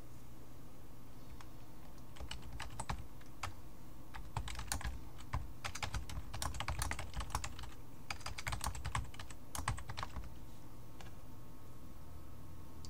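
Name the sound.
typing an event description on a computer keyboard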